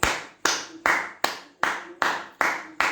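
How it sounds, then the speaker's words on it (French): A football commentator claps his hands alone, seven sharp claps in a steady rhythm, close and fairly loud, with no talk over them. "J'applaudis Noutoulou."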